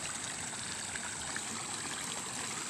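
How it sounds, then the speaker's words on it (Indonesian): A small stream running through the middle of an orchard after a flood gives a steady, even wash of flowing water that stays constant throughout, with no voices. "mengalir air di sini yang bekas sungai kecil ya di pertengahan kebun ini"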